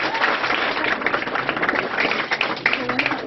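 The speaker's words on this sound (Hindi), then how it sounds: "ताली बजाओ।" An audience claps at a school and coaching centre event being covered in a local news report, a dense burst of applause with voices mixed in, fairly close and steady across the whole stretch.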